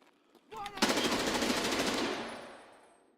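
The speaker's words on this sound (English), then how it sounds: "Pretty sure I heard somebody shooting over here way." A burst of rapid automatic gunfire in the shooter game Escape from Tarkov, a fast rattling volley of close, loud shots that starts abruptly and holds for about two seconds before fading into a tail.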